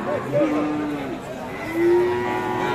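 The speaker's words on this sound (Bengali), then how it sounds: "আর রয়েছে কিন্তু দর্শক আমরা যেখানটায় সুন্দর সুন্দর কোয়ালিটিফুল ফ্রিজিয়ান জাতের বকনা বাচ্চাগুলি বেচা কেনা হচ্ছে।" Friesian heifer calves moo at the Raniganj cattle market in Ghoraghat, Dinajpur. A few drawn-out, fairly close calls ring out over a background of market murmur.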